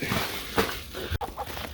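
Chickens in a modest backyard coop cluck softly and irregularly, a few short close calls standing out against a low background of shuffling and movement.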